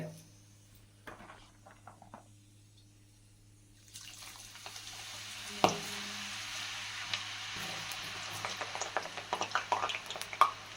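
Hot oil begins sizzling steadily after a few quiet seconds as raw jackfruit slices go in, with a sharp splash and crackling pops building toward the end.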